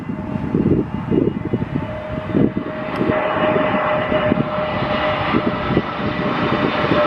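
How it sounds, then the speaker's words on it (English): A Scandinavian Airlines Airbus A320neo arrives at Stockholm Arlanda in the early evening, its jet engines giving a steady, fairly loud roar with a faint whine that goes on throughout, with no voices. "this one is the Scandinavian Airlines Airbus A320Neo"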